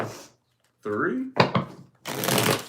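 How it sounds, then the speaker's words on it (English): Tarot cards are shuffled by hand in short, crisp bursts separated by pauses, fairly close and loud, alone without talk. "So let's get 4 shuffles here."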